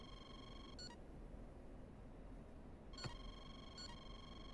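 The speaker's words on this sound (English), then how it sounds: "that tone you hear here indicates I'm being locked by a threat." Short bursts of radar lock warning tones in the F-16C cockpit of the DCS flight simulator sound twice, high-pitched and steady, over a constant low background hum.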